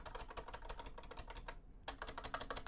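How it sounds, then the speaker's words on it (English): Loud computer keyboard typing with rapid, uneven keystrokes close to the mic, a brief pause near the middle, then steady clattering resumes. "My keyboard is kind of loud."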